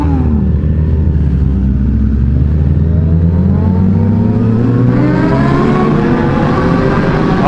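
A Honda CBR 1000RR sport motorcycle engine revs hard inside a tunnel, a loud, continuous booming roar that sweeps up in pitch with echoing reverberation and no talk.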